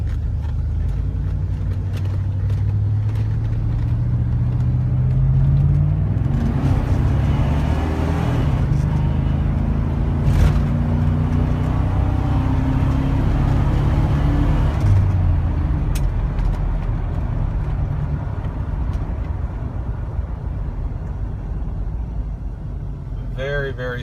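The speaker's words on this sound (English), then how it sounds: "Hands off the wheel, drives down the road straight as an arrow." A partially restored two-door Tahoe/Yukon SUV cruises down the road, its engine and tire noise a steady low rumble heard from inside the cabin while a person talks over it.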